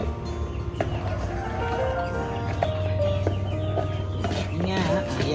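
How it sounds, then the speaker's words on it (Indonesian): Chickens and chicks clucking and chirping close by at feeding time over a steady low hum, with occasional sharper calls scattered throughout. "Setengah 8 kita waktunya kasih makan ayam"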